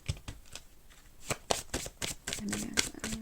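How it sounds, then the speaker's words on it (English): A dark mirror tarot card deck is shuffled by hand, giving quick crisp riffles and snapping bursts in an uneven rhythm, close and clear, with a brief low hum near the end. "Let me get some cards from this dark mirror deck."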